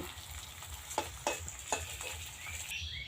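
Jackfruit muitha dumplings fry in oil with a continuous close sizzle, punctuated by a few spaced utensil taps and scrapes.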